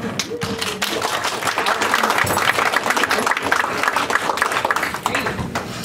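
Keynote audience at the TechPHX 2014 conference in Phoenix breaks into applause, a dense wash of clapping that swells and holds steady for several seconds with some voices mixed in.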